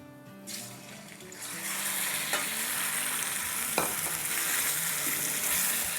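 Bone-in chicken, about a kilo, frying in garam masala, with a steady, loud, close sizzle that thickens after the first second, broken by a couple of sharp stirring scrapes.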